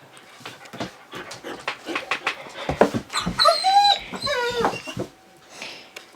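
A pet dog back from a walk whimpers, whines and yips excitedly in a long, restless stream of high squeaky cries mixed with panting, close and fairly loud.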